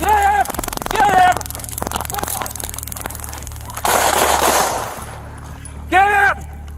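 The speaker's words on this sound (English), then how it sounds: "Shot fired, shot fired, shot fired." Gunfire breaks out during a police officer's struggle with a suspect: a dense, sharp burst of shots sounds in the middle, framed by loud shouting voices before and after.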